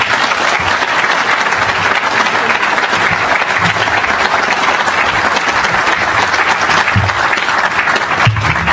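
A university audience applauds as a speaker is welcomed to the stage at a groundbreaking event. The clapping is loud and steady and fills the whole stretch, with a faint voice near the end.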